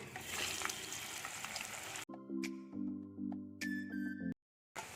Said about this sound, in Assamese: তেলখিনি গৰম হৈ গৈছে। এতিয়া পিঠাখিনি মই ইয়াত দি দিম।